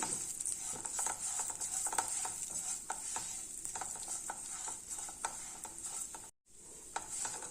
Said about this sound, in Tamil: இந்த பாஸ்மதி ரைஸ் இருக்கு இல்லைங்களா அதை வந்து இதில் சேர்த்து லைட்டாக வறுத்து விட்டுருங்க